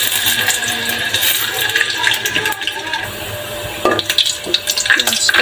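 Oil heats in a pan, then onions fry and sizzle for a bottle-gourd and egg dish. A continuous hiss and crackle runs throughout, with a few sharper stirring or spattering bursts near the end.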